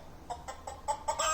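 A hen clucking from a push-button farm animal sound book, a quick series of five or six short clucks in a steady rhythm, faint but close.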